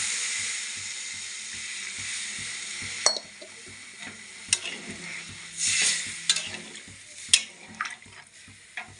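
Water is poured into a pan of frying curry for rohu fish and potato curry, bringing steady sizzling and bubbling with occasional sharp clinks of a stirring spoon against the pan.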